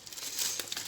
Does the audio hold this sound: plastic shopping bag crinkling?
yes